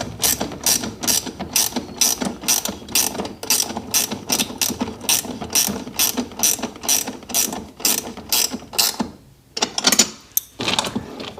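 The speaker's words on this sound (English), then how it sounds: "Last bolt going on for the steering." A ratchet tightens a lock nut on the steering bolt of a Seadoo RXDI personal watercraft in a rapid, even run of close metallic clicks. The clicking pauses briefly near the end, then resumes for a few final strokes.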